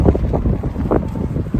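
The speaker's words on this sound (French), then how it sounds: "mais quand je vous dis énormément de vent" Strong wind buffets the microphone outdoors in a city on a very windy day, a loud, low, rumbling roar that gusts unevenly throughout with no voices.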